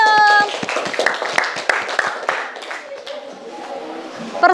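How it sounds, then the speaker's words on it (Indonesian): A group clapping hands for a team in a classroom-style session, a loud burst of clapping that fades into softer murmuring and voices toward the end. "ya tepuk tangan buat kelompok senyum"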